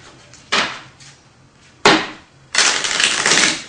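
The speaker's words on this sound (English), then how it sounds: "I will shuffle the cards." A deck of playing cards shuffled at a poker table: three quick riffle bursts, the first two short and sharp, the last longer and fuller, close and loud with quiet gaps between.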